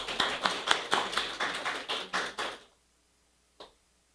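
Brief applause from a seminar audience welcoming participants, a quick run of close, fairly sparse claps that stops abruptly, followed by silence and one faint knock.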